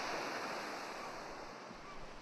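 Ocean waves wash steadily onto a golden sand beach, a continuous broad surf roar that stays loud and even throughout with no distinct breaks.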